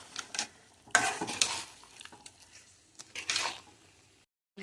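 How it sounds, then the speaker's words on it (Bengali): Duck meat with bay leaves is sautéed and stirred in a pan: short bursts of sizzling and wet scraping as it is turned, close by, with quiet gaps between the strokes. "এখন আমি এটা কষিয়ে নিচ্ছি।"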